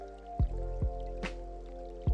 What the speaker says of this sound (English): No difference, drip a little inside.